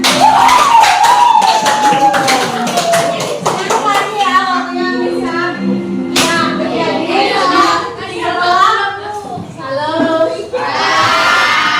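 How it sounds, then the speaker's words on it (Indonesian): A classroom of children claps together in a burst of sharp, rhythmic hand claps, then breaks into excited shouting and chatter, loud and close throughout. "tepuk tangan semua ya."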